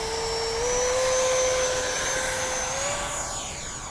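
A Hobby King Flycat V2 radio-controlled electric ducted fan plane taking off, its loud, steady high-pitched whine holding and rising slightly in pitch as it climbs away.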